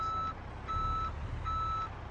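A Peterbilt 389 heavy-haulage truck in Euro Truck Simulator 2 sounds its reversing alarm, three evenly spaced electronic beeps over a low steady engine rumble.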